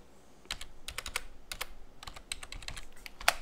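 A password is typed on a computer keyboard in soft, quiet clusters of keystrokes, irregular bursts with short pauses, close to the microphone.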